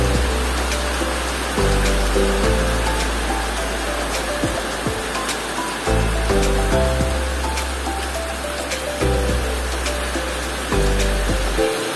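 Steady rain falls in the rainforest of Pastaza, Ecuador, a dense continuous hiss of drops close by, with low rumbling swells and faint tonal sounds drifting through the downpour without pause.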